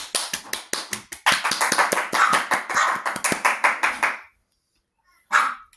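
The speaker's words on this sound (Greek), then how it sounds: "ένα χειροκρότημα ότι είμαι πολύ καλός" A steady run of hand claps, loud and close, about twenty evenly spaced claps that stop abruptly, then one short final burst after a pause; given as applause for being good at Fortnite.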